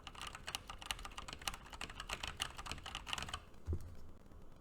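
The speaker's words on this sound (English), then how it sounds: "Testing keyboard noise on the Snowball ICE microphone." Rapid keyboard typing recorded on a Blue Snowball ICE microphone: dense, close clattering keystrokes for about three seconds, then a quieter tail with a single soft thump, over faint background hum and no speech.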